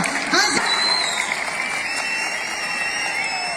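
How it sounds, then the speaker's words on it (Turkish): Crowd applause at the 16th pomegranate festival in Göyçay, a loud outdoor wash of clapping under a whistle-like tone and a voice over a sound system early on, continuing steadily to the end. "Alkışlar gelsin, gürültülü alkışlar Göyçay'ımıza."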